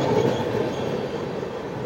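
The Uttar Banga Express, a red LHB-coach train, rolls into a station platform, a steady rumbling wheel roar with faint rail squeal, close and continuous.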